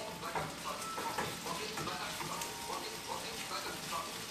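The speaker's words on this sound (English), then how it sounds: "we're just going to want to fry these vegetables up" Vegetables fry in a hot pan for a low-calorie vegetable omelette, giving a steady, close crackling sizzle with soft stirring scrapes throughout.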